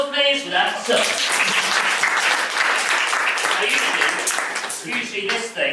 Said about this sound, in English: Round of applause, please, for that song.